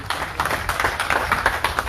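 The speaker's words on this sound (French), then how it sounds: "Merci sur vos applaudissements, merci." An audience at a congress of firefighters in Martinique applauds in a packed hall, a thick, loud burst of many hands clapping with uneven rhythm and a low rumble underneath, without any talking over it.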